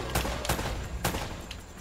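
Enemy gunfire in Uncharted: Drake's Fortune, a few sharp single shots cracking out at irregular intervals over a steady background of game ambience, moderately loud with no talk.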